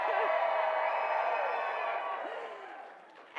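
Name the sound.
crowd cheering at election night event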